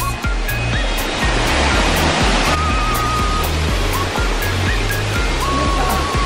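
Batlag Falls, a waterfall near Rana Falls, pours with a loud, constant rush of falling water, while a faint rhythmic thumping and tones sit underneath.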